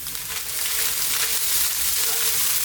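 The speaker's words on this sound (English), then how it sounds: "That is the rice actually frying." Chicken broccoli fried rice sizzles hard in a pan on maximum heat, a steady, loud frying hiss that holds evenly throughout with no talking.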